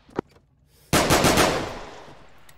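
Video game gunfire erupts in a close, loud, rapid burst after a single sharp crack, the reverberant rattle of shots trailing off into a fading echo.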